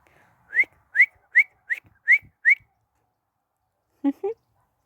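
A person gives six short rising whistles in a steady rhythm to call rabbits outdoors, followed after a pause by two faint low tonal sounds.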